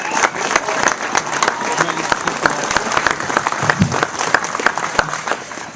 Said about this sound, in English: Please give a loud round of applause for Rick Basher.